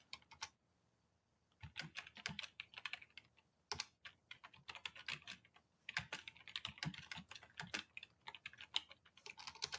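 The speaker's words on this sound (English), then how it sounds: "And let me type in a message." Keys clack on a computer keyboard as a message is typed, a close, quick, uneven run of clicks with short pauses between bursts and no voices.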